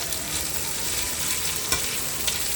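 Browned beef sizzles steadily in a hot pan for a beef vegetable stew. The frying crackle is close and continuous, with a couple of brief stirring clicks and no voices.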